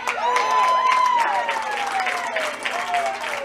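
A crowd at a baseball game claps and applauds steadily for several seconds at moderate distance, while a voice talks over the clapping.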